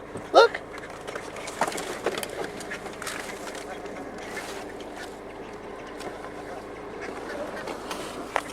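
Ducks quacking now and then as a flock gathers to be fed outdoors, with geese and other birds nearby; short bursts of calls sit among steady background noise while people talk over them.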